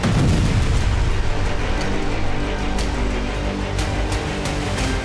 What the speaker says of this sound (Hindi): यूक्रेन ने एंटी टैंक मिसाइल का इस्तेमाल किया, इसीलिए इतना जोरदार धमाका हुआ